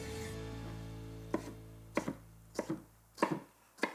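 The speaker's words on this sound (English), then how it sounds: "I'm just going to roughly chop that." A knife roughly chops a tomato on a board, about eight sharp, close cuts falling in uneven pairs after a quiet start, with no talking.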